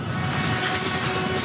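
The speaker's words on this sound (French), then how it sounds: "Les seuls trains que nous voyons passer viennent de la mine voisine." Coal train from a nearby mine rolling past a closed station in Pokrovsk, Ukraine, a steady broad rumble with faint clatter, loud and continuous throughout.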